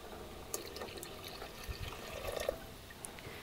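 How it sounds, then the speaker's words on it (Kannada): Water in which bole was boiled is poured into a pot of rasam, giving a faint, continuous splashing trickle with a few small drips and clinks. "ಇದುಂಟಲ್ಲ ನಾವು ಆವಾಗಲೇ ಬೋಳೆ ಬೇಯಿಸಿದ ನೀರು"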